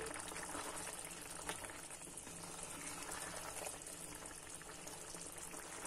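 Jambalaya simmering in a covered pot, a steady, faint bubbling and hiss with soft clinks and scraping as it gets a quick stir, no talking.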